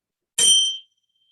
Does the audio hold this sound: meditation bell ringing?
yes